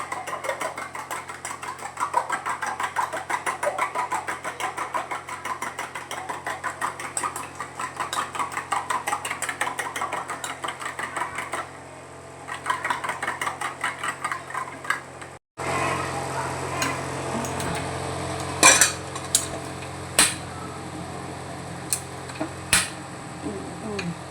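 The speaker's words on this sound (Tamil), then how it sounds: "அப்புறம் நம்ம முட்டையை அடிச்சுக்கலாம்" Eggs beaten in a bowl while cooking: a steady, fast metallic clinking of a utensil against the bowl runs for about fifteen seconds, then gives way to louder scattered kitchen clatter of dishes and pans, with some faint talk.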